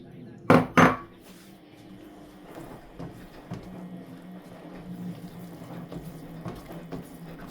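Bajra millet flour roasting in hot ghee is stirred in a pan: two loud metal clanks from the spoon striking the pan open the sequence, followed by soft, continuous scraping and stirring.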